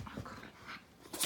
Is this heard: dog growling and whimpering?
yes